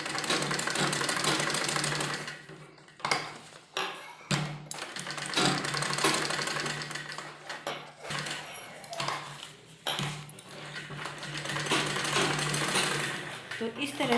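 Sewing machine stitching elastic into a lined palazzo, bursts of rapid mechanical chatter broken by short pauses, close and fairly loud, with someone talking between runs.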